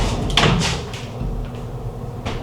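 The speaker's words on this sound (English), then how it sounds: "The bathroom is barn style door. Let's actually close it." A barn-style sliding bathroom door in a resort hotel room rolls shut, a short rumbling slide ending in a soft knock, then a faint later bump, close by with no talking.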